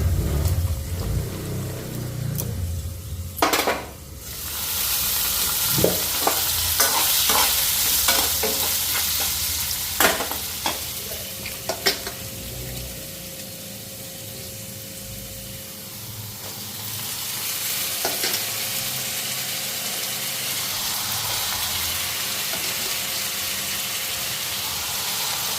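Food fries in a pan with a steady sizzle and hiss throughout, broken by sharp clinks and scrapes of stirring, close and fairly loud.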